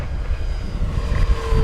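An FMS P-51 Mustang Red Tail radio-controlled warbird, 1700mm span, roars past with a steady droning propeller-engine buzz, fairly close and loud throughout with some wind rumble.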